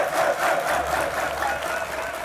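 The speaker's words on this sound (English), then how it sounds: "The crowd is on its feet and chanting." A home-crowd esports audience at the ASUS ROG Summer 2014 tournament roars and cheers in a dense, continuous wash of noise that stays loud throughout the short stretch.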